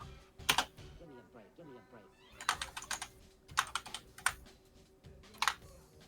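Vigorous typing on a computer keyboard, bursts of rapid loud key clatter separated by short pauses, with faint background voice sounds between the bursts.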